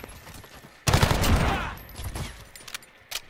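Gunfire in the Modern Warfare video game breaks out as a sudden loud, dense volley of shots that decays over about a second, followed by a few scattered, sharper single shots.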